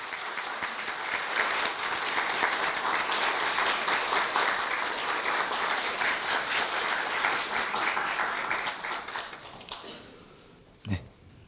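Sustained applause from an audience at a Korea University staff retirement ceremony, a dense even wash of clapping that fades near the end as a voice begins.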